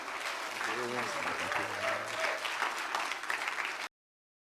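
A church congregation applauds to welcome Pastor David Lah, a dense, steady wash of many hands clapping that carries on for several seconds under a speaking voice, then stops abruptly.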